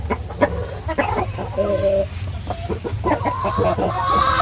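Decal Brown heritage chickens cluck and murmur inside their coop, repeated close clucks and brief squawks in an uneven rhythm, with a faint steady hiss behind them.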